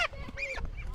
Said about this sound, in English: That's Patch, the goose.